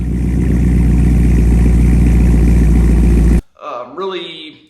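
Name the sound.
C5 Corvette exhaust with Cook's long tube headers and Billy bullets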